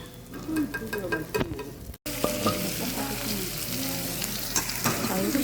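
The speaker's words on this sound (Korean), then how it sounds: "고기를 조금 남겨주시고 어, 밥하고 볶으면 됩니다" Fried rice stir-frying with leftover duck bulgogi on a hot grill, a steady close sizzle with scraping and stirring of a spatula throughout, a brief cut midway, no talk.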